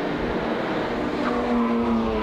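A pack of race cars accelerates at the start of the Bathurst 6 Hour, climbing Mountain Straight in a massed traffic jam, and the engines blend into a loud, sustained roar with rising whines.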